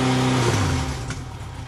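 A motorcycle engine treated with Amsoil fuel additives holds a steady idle-up at around 4,000 rpm, a loud, close, even hum with a constant tone and no changes in pitch.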